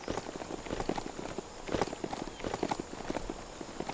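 Horse hooves clatter rapidly in a quick running rhythm, close and moderately loud, with no other sounds over them, from a mount in the video game Biomutant.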